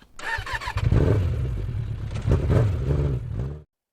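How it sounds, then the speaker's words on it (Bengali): A motorcycle engine cranks and catches, then settles into a steady, fairly loud rumbling idle for a few seconds before cutting off. "বাইকটা স্টার্ট দিলাম"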